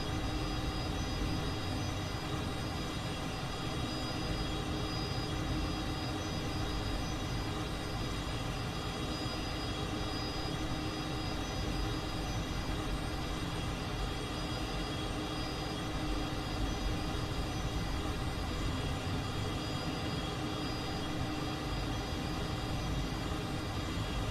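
Steady, dense jet engine roar from a Cessna T-37 Tweet in a freeware flight simulator, droning evenly and loudly for the whole stretch with no breaks or talk.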